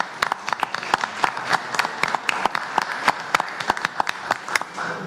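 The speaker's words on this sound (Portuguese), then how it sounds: "E eu vou quebrar o protocolo pedindo uma salva de palmas para esses nossos" Applause from an audience at a state education committee hearing, a steady patter of many hands clapping for about five seconds without talk.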